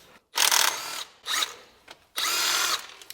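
Snap-on cordless impact gun removing transmission bolts on a twin turbo Stealth, three close, loud bursts of rapid hammering, the first and last longer, separated by short pauses.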